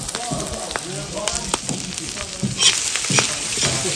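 Wasp larvae (z'endeck) sizzling and crackling loudly in hot oil in a frying pan, a dense continuous fizz with stirring scrapes and pops, close by and with no talk.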